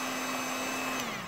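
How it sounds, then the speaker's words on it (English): A very small electric vacuum cleaner, used for picking up loose model railway ballast, hums steadily at close range with a constant motor whine, tapering slightly at the end. "One other thing is a very small electric vacuum cleaner."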